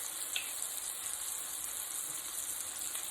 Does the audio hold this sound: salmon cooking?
yes